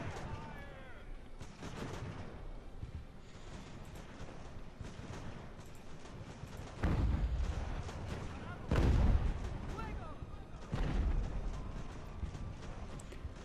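Artillery fire on a battlefield in Ultimate Admiral: Age of Sail, three or four heavy booming volleys at a distance over a constant background of battle noise, with a voice speaking quietly over it.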